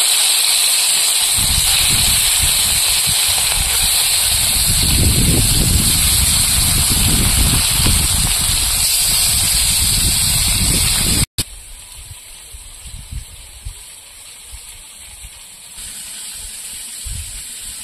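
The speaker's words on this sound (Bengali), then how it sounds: "এবার আমি শোল মাছটা ভেজে নেব।" Shol (snakehead) fish frying in hot oil makes a loud, dense, continuous sizzling hiss that cuts off abruptly and gives way to a quieter, steady sizzle.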